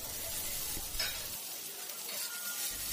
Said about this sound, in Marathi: तेल गरम झालं की लगेचच आपल्याला या चिरून घेतलेल्या कारल्याच्या फोडी घालायच्या आहेत।